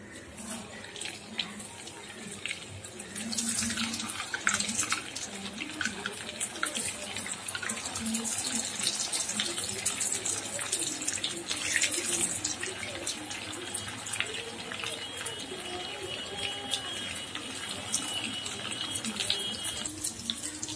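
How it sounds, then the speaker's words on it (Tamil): Bread rolls sizzle steadily as they deep-fry in hot oil, a continuous bright crackling hiss that stays fairly loud and close throughout, with no voices. "இப்போ எல்லாத்தையும் உள்ள எண்ணெயில் போடுறேங்க"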